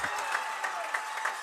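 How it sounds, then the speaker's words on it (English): A high school football crowd at South Milwaukee versus Grafton cheers and applauds after a 22-yard field goal, a distant broad wash of clapping and shouts with a few sharper bursts. "And the crowd goes wild."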